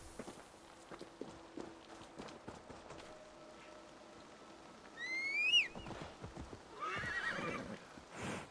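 In the video game Assassin's Creed Valhalla, clip-clopping hooves beat steadily, then a horse gives a loud, rising whinny, followed by a rushing sound as the hooves continue.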